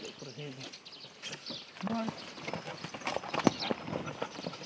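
Hooves of a horse pulling a cart clip-clop steadily at a walking pace, close by, with occasional voices and birdsong in the background.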